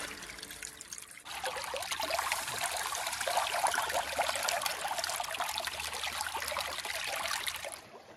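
Gold pay dirt washing down a running sluice, a continuous rushing trickle of water that starts after a second and pours steadily and fairly loudly, then cuts off abruptly at the end.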